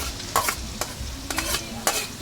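Chili, onion and garlic frying in a pan for palapa: a steady low sizzle broken by several sharp scraping stirs of a utensil against the pan, close and clear, with no talk.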